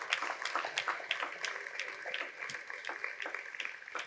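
Theatre audience at the Casinò di Sanremo applauding, many hands clapping in sharp irregular bursts, moderately faint and continuous for a few seconds.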